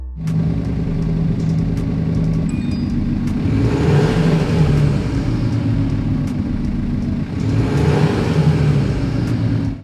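An iXsound active exhaust system plays a simulated car engine sound: a steady drone with harmonic exhaust rumble, swelling twice as if revving up, loud and continuous throughout.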